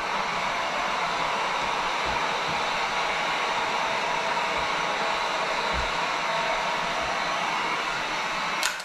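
Heat gun shrinking ceramic tint film on a Dodge Charger back window, a loud continuous blowing roar with a steady fan hiss held throughout, close to the microphone.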